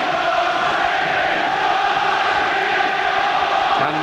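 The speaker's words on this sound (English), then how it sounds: "Well, it's the Jones boy that they're cheering here at Barnsley tonight." A football crowd at Barnsley during an FA Cup match against Manchester United keeps up a steady, dense roar of massed voices that stays at a constant level throughout.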